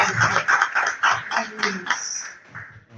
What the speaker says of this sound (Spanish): vamos a llamar a nuestra primera conferencia a la periodista Iris Cuevas, con un fuerte, muy fuerte aplauso